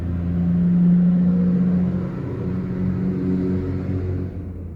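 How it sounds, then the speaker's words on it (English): Loud truck engine revving outside, a steady low rumble that swells early, then settles into a continuous idling drone, with no voices. "I hate loud trucks."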